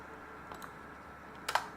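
A few light keystrokes on a computer keyboard while Python turtle-graphics code is entered, a soft single tap followed by a brief quick cluster of clicks, close and quiet.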